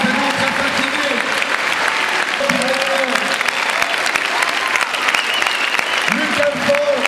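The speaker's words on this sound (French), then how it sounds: "Je voudrais que vous fassiez un énorme applaudissement à tous les sportifs" An audience at a sports presentation gives the athletes sustained, dense applause that runs throughout, with voices calling out over the clapping.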